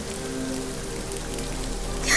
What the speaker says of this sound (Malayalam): എന്നിലേക്ക് പെയ്തിറങ്ങുന്ന ഈ മഴയുടെ ഓരോ തുള്ളിയും എന്നോട് പറയുന്നു